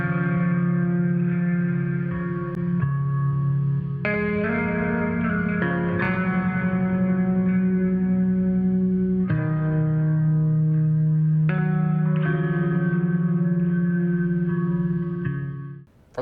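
Slow, melancholy music: sustained, heavily effected tones with echo and distortion hold steady and loud, shifting chords every few seconds, with no voices.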